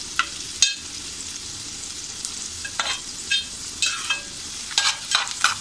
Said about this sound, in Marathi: परतून घ्यायचं आहे कांदा